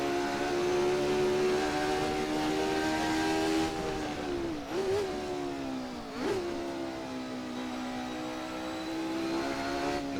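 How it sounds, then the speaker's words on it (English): The Ford V8 of a Jordan 191 Formula One car screams at high revs in a racing video game, holding a steady wail and dipping briefly twice on downshifts before rising again, with no voices. "That Ford unit singing away."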